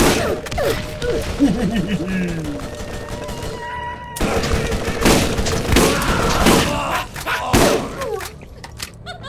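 Gunfire in Borderlands during a firefight, with dense bursts of shots and blasts running through the whole stretch alongside game sound effects and occasional voice sounds.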